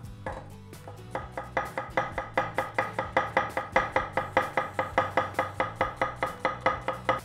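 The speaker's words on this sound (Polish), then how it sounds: "Cebulę będę kroił w pióra." A knife chops three medium onions into thin half-moon slices on a board in a home kitchen, a steady, fast run of crisp, evenly spaced knocks heard close and alone.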